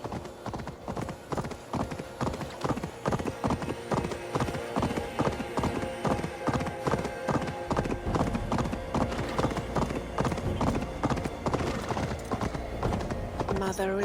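Horse hooves clip-clop steadily on the ground in the Viking-age game Assassin's Creed Valhalla, a brisk, even rhythm of hoof strikes close by, heard over game music and ambient sound with a horse's whinny and a voice speaking.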